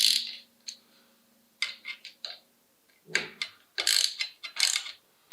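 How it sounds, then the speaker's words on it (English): Bike brake caliper bolts on a Bombtrack frame tightened with a small ratchet, crisp clicking bursts in short separated runs, close and alone. "slowly but surely, inch up these caliper bolts."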